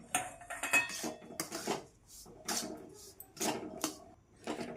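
Roasted semolina scraped out of a pan into a metal plate, a string of close metallic scrapes and clinks in uneven bursts separated by short pauses.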